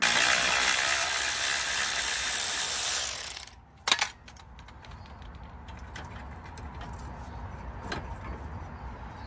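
A ratchet removes a 13mm bolt holding brake lines on a Tahoe, starting with a few seconds of loud steady mechanical buzzing, then a sharp clack, followed by faint sparse clicks and quiet workshop noise.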